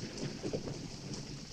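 Rain begins to fall on open farmland, a steady broadband hiss with a low rumbling undertone that holds evenly throughout, close and fairly quiet, with no voices.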